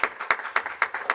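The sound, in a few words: clapping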